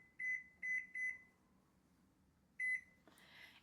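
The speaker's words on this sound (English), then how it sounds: "Now, we are going to set our timer for our noodles." A kitchen timer being set for cooking noodles gives three short, clear beeps in quick succession, then a pause and a fourth beep, followed by a soft rustle or click nearby.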